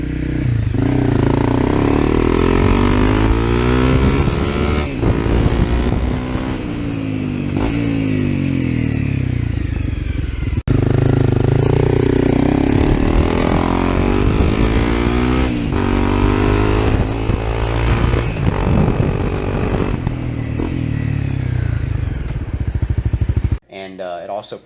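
2017 Honda CRF250L motorcycle fitted with an FMF Hex Q4 slip-on exhaust, running loud and close with repeated revving swells and a rough, throaty note, while someone talks over it throughout.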